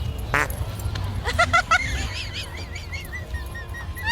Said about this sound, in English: Ducky, ducky, ducky. Quack, quack.